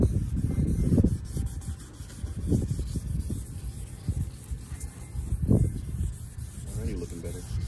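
A faded car headlight being wet-sanded by hand with 2000 grit sandpaper, giving soft repeated rubbing strokes in an uneven rhythm, fairly quiet and close.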